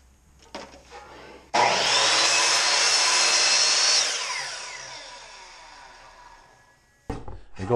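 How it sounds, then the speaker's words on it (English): A power saw crosscuts a 1x8 board to length, starting abruptly with a loud, close whine and cutting noise, then tapering off as the blade spins down, followed by a brief knock and clatter. "Basically what you want to do is cross cut these to the right length."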